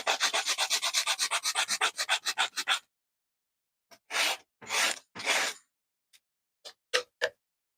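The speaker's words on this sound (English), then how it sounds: "just know that I'm about to use sandpaper" Rapid rhythmic scratching of sandpaper rubbed back and forth by hand, about a dozen quick strokes, then a pause and a few slower, separate rasps.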